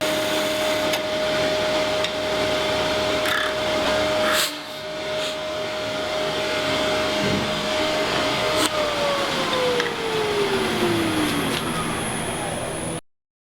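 A lathe turns a cigar case lid with a steady, loud motor hum and whine, and a tone that drops in pitch near the end as the machine slows before it cuts off.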